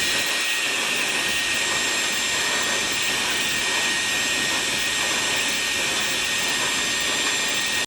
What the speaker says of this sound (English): you can go in with your blow dryer and sort of rough dry a little bit